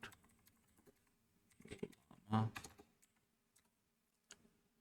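Short bursts of typing on a computer keyboard, a few quick close clicks clustered together and then sparse taps, faint and with no speech.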